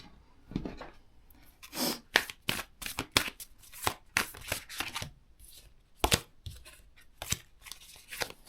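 Tarot cards with a slightly sticky surface shuffled by hand, a run of crisp papery riffles and slaps in irregular bursts, close and fairly quiet, with no talking.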